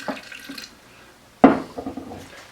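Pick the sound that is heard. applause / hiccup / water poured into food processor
water poured into food processor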